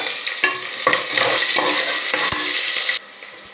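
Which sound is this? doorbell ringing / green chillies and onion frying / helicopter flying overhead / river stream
green chillies and onion frying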